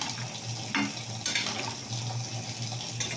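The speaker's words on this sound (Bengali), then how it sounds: "জলটা দিয়ে দিলাম" Water is poured into a cooking pot, a continuous splashing rush over a low steady hum, with a few louder spurts and pot clatters, close and unaccompanied by speech.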